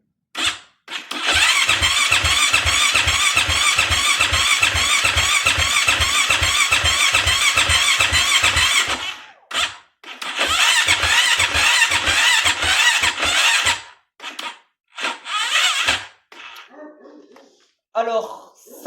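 A KTM 450 SX-F dirt bike engine cranks repeatedly without catching, giving a steady rhythmic churning for about nine seconds, then shorter bursts of cranking that stop and restart, close and loud, with brief voices between attempts.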